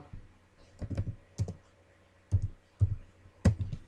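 A short command is typed on a computer keyboard in a quiet room, a handful of distinct, close keystroke clicks in small clusters separated by brief pauses.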